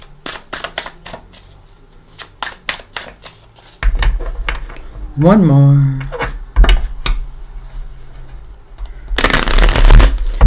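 Tarot cards riffle and shuffle in quick bursts of crisp ticking, with short bits of talk, a rustle and louder handling toward the end.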